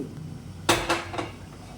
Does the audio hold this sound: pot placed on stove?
yes